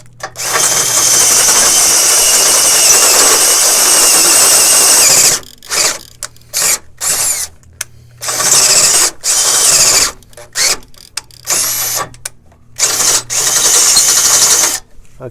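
Step drill bit enlarging a hole to 9/16 inch in metal, a Metal Cloak drop bracket for a Jeep; a loud, close whining drill runs steadily for about five seconds, then in short repeated bursts with pauses and a low hum beneath.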